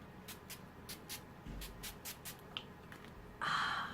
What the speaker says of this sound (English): I'm going to set this with the NYX Dewy setting spray.